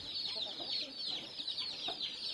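Reachu Vatam breed chicks about two and a half months old peep in continuous high chirps mixed with soft clucks, faint and close, with no talk.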